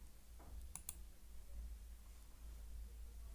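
A couple of quick, light clicks, most likely a computer mouse pressed on a Continue button during HDFC net banking. They are close together near the start, then a quiet hum is left.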